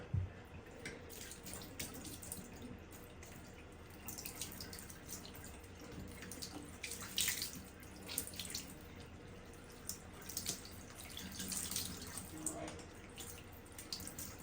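Tap water runs steadily over a Shark cordless vacuum filter being rinsed in a sink, a continuous splashing stream with scattered drips, fairly quiet and heard alone.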